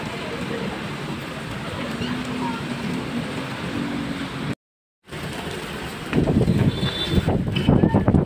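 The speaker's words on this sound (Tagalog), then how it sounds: "Guys, malakas ang hangin." Strong typhoon wind and rain sweep through a Metro Manila street, a loud steady broadband roar that drops out briefly midway, then returns with heavier, gustier bursts toward the end.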